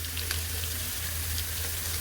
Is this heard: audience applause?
no